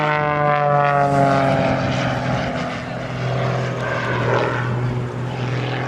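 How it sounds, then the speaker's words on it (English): An aerobatic propeller airplane performing inside step rolls at the Selfridge ANGB airshow, its engine droning steadily and loudly with a wavering pitch as it maneuvers, while an announcer talks over it on the PA. "he takes and gyrates the airplane across the skies. Here he comes again, another inside step rolls on the 45-degree down"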